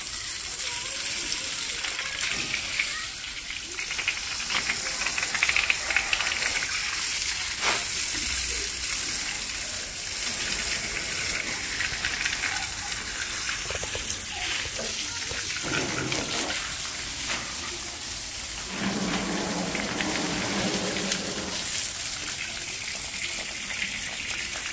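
Water rushing from a hose pipe during washing, a steady close gush with splashing that runs throughout, while a person talks over it at times.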